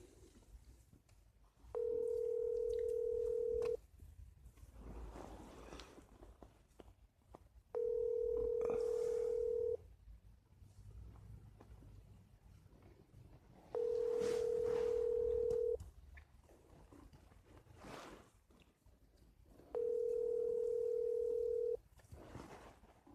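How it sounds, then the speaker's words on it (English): A phone call rings out, with four evenly spaced steady ringback tones about two seconds long, separated by pauses of quiet background hiss. "calling Shannon"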